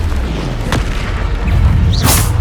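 Bombarda spell blast in the Hogwarts Legacy video game, a loud booming burst over dense rumbling game noise with a bright crack near the end.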